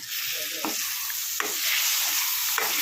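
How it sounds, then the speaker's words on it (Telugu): Boiled egg curry with tamarind leaves is stirred in a pan, with a few sharp scrapes of the spoon over a steady sizzle of frying. "ఎగ్స్ మంచి బాయిల్డ్ అయ్యాయి కదా, మనం దీన్ని కదులుపుదాం."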